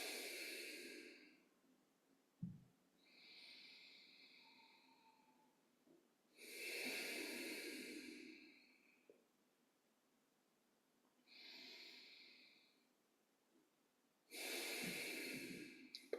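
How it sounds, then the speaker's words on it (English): Breathy, throaty exhalations with a snore-like rasp during yoga breathing, repeated in about five rising and falling breaths spaced a few seconds apart, close and fairly soft, with no talking. "The uddanic exhalation can trigger the kind of snore impulse, that kind of snore at the back of the throat"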